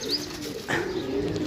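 Numbered pigeons cooing up close, a low soft throaty coo running steadily through the short stretch with a faint higher chirp near the start and a brief rustle midway.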